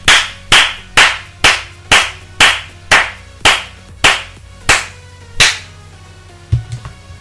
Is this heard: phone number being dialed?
no